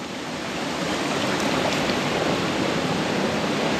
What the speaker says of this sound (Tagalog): Welcome to Nagsabatan Falls.